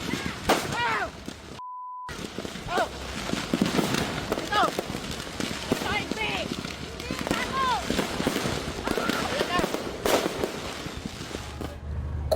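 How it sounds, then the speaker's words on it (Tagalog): Assorted fireworks go off at a fireworks store area on New Year's, a rapid, irregular barrage of sharp pops and crackles, near and loud, with people talking under the bursts. "pagsabog ng sari-saring fireworks"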